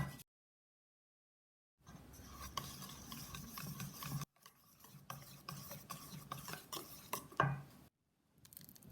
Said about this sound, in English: Stick the whisk on the bottom of the bowl and whisk the batter.